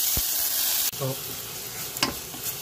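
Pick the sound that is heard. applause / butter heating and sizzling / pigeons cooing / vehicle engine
butter heating and sizzling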